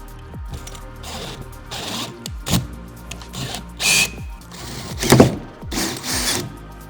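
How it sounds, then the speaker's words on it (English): A power drill bores 8mm holes through the roof of a Land Rover Defender in several short, sharp bursts with brief pauses between, close and moderately loud. "I'm just going to drill our 2 outside holes that we've marked up."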